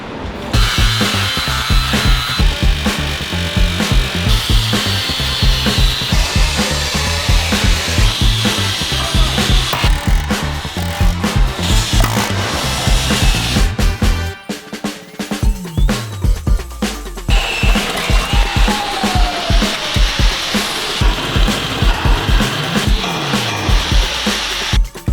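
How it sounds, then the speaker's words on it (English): Power tools cut through old suspension parts on an OBS Ford truck, grinding and sawing loudly and continuously with rattling vibration. There is a brief pause partway through, then the cutting resumes. "We're about to cut these off right here. Yeah, we're about to do a lot of cutting."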